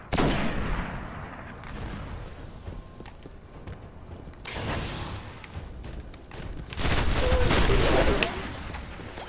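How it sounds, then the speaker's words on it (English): Sustained automatic gunfire and explosive bursts from a Destiny firefight against a Hobgoblin enemy. The rapid volleys are loud and dense, swelling in several waves, with no talking. "I think I shot the Hobgoblin's head off because I can just hear him shooting."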